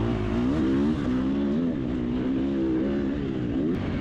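A Triumph 250 motorcycle being ridden, its engine droning steadily and loud close up, with the pitch easing slightly and wind rush over it, no speech.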